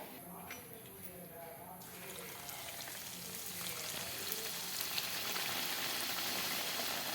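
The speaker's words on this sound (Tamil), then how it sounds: "ரெண்டு பக்கமும் நல்ல பொன்னிறமாக வர்ற வரைக்கும் பொறிச்சு எடுத்துடலாம்" Moong dal puri deep-frying in hot oil, a steady broadband sizzle that swells louder over the clip and carries on throughout, with faint talk underneath.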